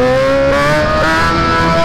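A Kawasaki Z1000 motorcycle engine revs loud and close, a continuous harmonic drone that climbs slightly in pitch, with no voices.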